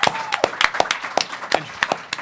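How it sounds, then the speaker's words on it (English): Audience at a comic-book convention panel claps in a scattered, uneven patter of individual hand claps, moderately close, with no speech over it. "Round of applause, guys."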